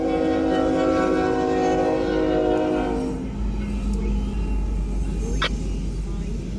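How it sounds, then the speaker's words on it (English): A freight grain train rumbles past with a heavy rolling roar, its horn sounding at first and then fading as the wheels keep grinding by. "I'm guessing this is a grain train."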